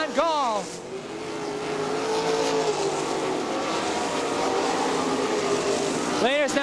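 Sprint cars race on the dirt oval at Crystal Motor Speedway, engines roaring loudly as cars sweep past at the start and again at the end, with a dense racing drone holding in between.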